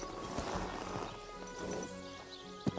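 Horse hooves clip-clop in Kingdom Come: Deliverance II, a medieval video game, a few soft steady footfalls under ambient game sound, ending in one sharp louder knock.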